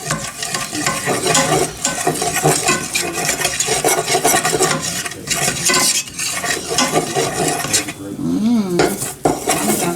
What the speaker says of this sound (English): See, our curry is burning now. Yeah, get that curry cooked.